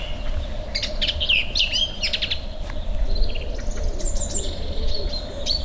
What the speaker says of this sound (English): Some beautiful bird song early in the morning.